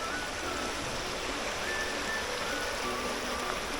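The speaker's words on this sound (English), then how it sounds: "Nice little weir there, little small weir." Water flowing over a small weir along the Nene Way at Stanwick Lakes, a steady, continuous rushing hiss heard alone at moderate distance.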